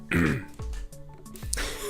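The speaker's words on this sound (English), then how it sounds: "Let me mute the mic while I clear my throat." Someone clears their throat a few times in quick, rough bursts, close to the microphone.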